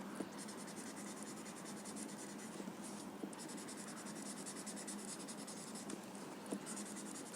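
Graphite pencil shading on paper over a Zentangle drawing, a soft continuous scratchy rasp of quick back-and-forth strokes, close and quiet, with no voices.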